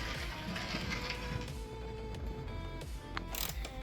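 Screws are fastened back in while a Dodge Challenger tail light is installed, heard as close mechanical clicking and ratcheting from a driver in short bursts with small metallic taps.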